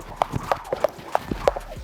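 Feet stamp flat on the ground during rope skipping, a quick run of sharp, close, irregular thumps with faint voice underneath.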